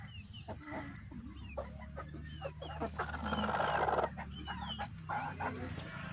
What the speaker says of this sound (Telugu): ఇదే ఫ్రెండ్స్ మన దగ్గర ఉండే పెద్ద పుంజు